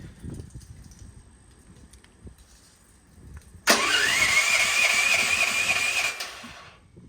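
A DuroMax XP13000HXT generator engine starts abruptly after a quiet stretch, catching with a sharp onset and then running at a steady loud whirring idle for a few seconds before easing down.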